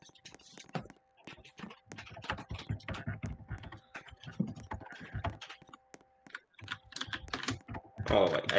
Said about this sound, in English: can you stop typing?